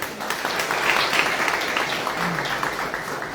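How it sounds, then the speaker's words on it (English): Audience at a book launch giving a warm round of applause, steady mid-level clapping filling the room throughout, with no speech over it. "A big round of applause for Talish."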